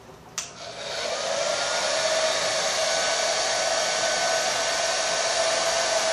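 A hair dryer fitted with a diffuser switches on with a click and then blows in a steady, loud, continuous whoosh with a high motor whine, held close, with no talking.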